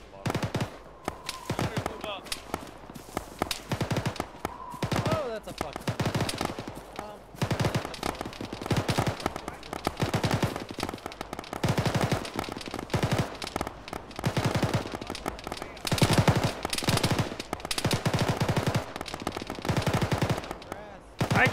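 Gunfire in the military video game ShackTac, rapid bursts of automatic weapon fire and single shots crackling almost continuously, loud and close, with brief pauses between volleys.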